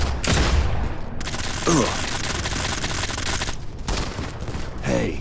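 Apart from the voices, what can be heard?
gunfire in Modern Combat 5 video game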